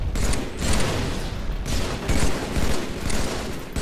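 Dense, continuous video game gunfire crackles throughout, rapid overlapping shots in loud rolling bursts with no pauses.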